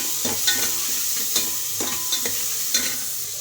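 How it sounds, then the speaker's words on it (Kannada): Two large onions fry in a pan with a constant bright sizzle, while a spoon scrapes and taps against the pan in a loose rhythm. "2 ದೊಡ್ಡ ಈರುಳ್ಳಿ ಫ್ರೈ ಮಾಡ್ಕೊಳ್ಳೋಣ"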